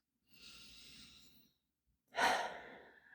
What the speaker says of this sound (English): Take a breath in on that.